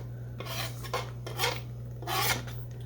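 Bite-sized pork pieces for a pot pie are scraped into a cooking pot in three rough, rasping strokes, close and moderately loud over a low steady hum.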